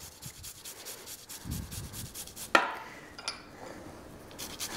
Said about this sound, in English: And now some garlic, it's great with lamb. Just grate that or crush it as well.